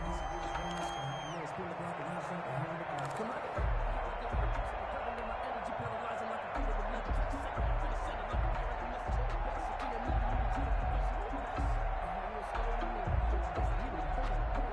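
Stadium crowd noise roars at an NFL football game between the Cardinals and 49ers, a continuous loud din of fans under a commentator's voice, with thumps and swells through the play.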